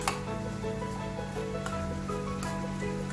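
Ridge gourd vegetable curry bubbling as it boils inside a running microwave: soft, irregular pops and crackles over a steady, close oven hum, with no talking.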